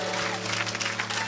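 A church congregation cheers and applauds, a dense, steady wash of clapping and voices lasting about a second and a half.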